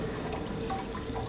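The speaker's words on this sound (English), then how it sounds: "Water." Water drips and trickles in the sci-fi horror video game Soma, a soft, continuous wet patter with faint splashes, heard close and alone for a brief moment.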